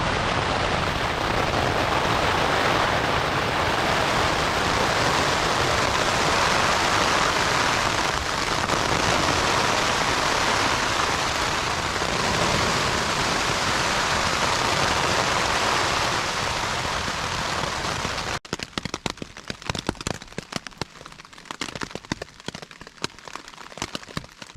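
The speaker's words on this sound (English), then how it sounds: "It actually started raining pretty good for a second there" Steady, heavy rain pours down on a backpacking trail in central Pennsylvania as a dense hiss for most of the clip, then breaks into scattered drips and patters near the end.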